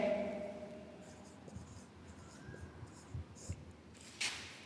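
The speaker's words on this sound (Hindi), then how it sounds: "तो यहां पर लिखते हैं" A pen writing on paper in short scratchy strokes, soft and close, with faint background noise and a few louder scrapes toward the end.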